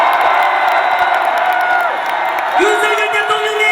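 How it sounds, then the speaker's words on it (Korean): A large outdoor rally crowd in Gumi lets out a loud, sustained collective shout and cheer, many voices roaring together with whoops rising near the end. "윤석열 대통령께 한 번 더 응원하는 함성 한번 부탁드립니다"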